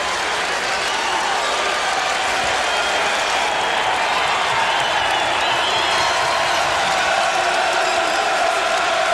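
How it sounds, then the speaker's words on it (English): A basketball arena crowd at a 2007 ACC game between Virginia Tech and Virginia cheers and applauds loudly and steadily, a dense roar of voices and clapping filling the whole stretch. "Crowd in full throat."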